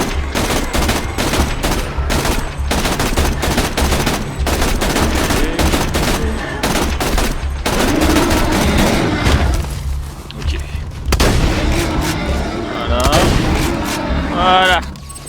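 Rapid bursts of gunfire from a weapon in the video game Borderlands 2, loud and repeated in quick volleys, with a spoken voice heard over the shooting.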